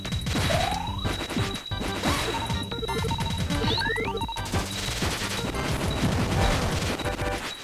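Rapid bursts of machine gun fire crackle in Cave Story+, mixed with sharp impacts, crashes and short sweeping game effects over steady background music.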